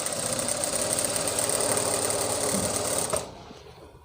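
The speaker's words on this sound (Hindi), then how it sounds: "मशीन को वापस हम सिलाई करते हुए ले जाएंगे" A sewing machine stitches a seam on ankle-length palazzo pants in a rapid, steady mechanical whir close to the microphone, stopping abruptly just after three seconds and leaving near silence.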